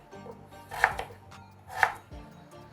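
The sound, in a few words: knife chopping potatoes into sticks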